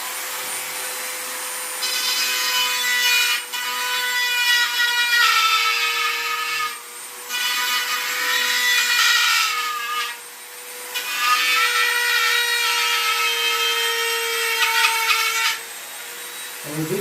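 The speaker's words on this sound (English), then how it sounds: "But I'll go ahead and Dremel it out." A Dremel rotary tool grinds into a coyote mount form for a howling black-phase coyote, a high whining buzz in several bursts of a few seconds each with brief pauses between them, close and steady with no talking.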